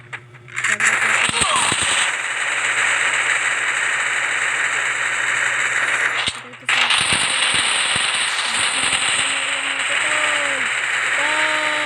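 Guns fire in the Free Fire video game: bursts of sharp shots over a constant roar of game noise, with a brief gap partway through, and a player's voice now and then.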